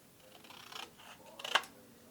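Scissors snipping through a paper journal tag, a soft rustle followed by one crisp, close cut, quiet and alone.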